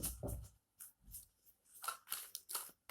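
Tarot cards being shuffled by hand, heard as a quiet run of quick, papery riffling bursts separated by short pauses.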